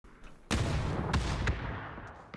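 A grenade detonates in a PUBG esports match: one sudden, heavy boom bursts in, followed by a rumbling tail with a couple of sharp cracks as it fades.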